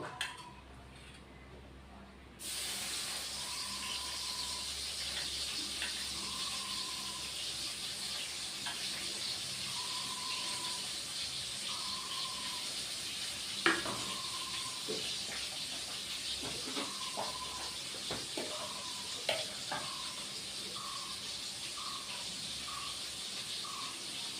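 Chopped tomato with chopped green chilli goes into hot oil for a vegetable dal, a steady sizzling hiss that jumps up when the tomato hits the pan, with occasional utensil clinks and scrapes while stirring.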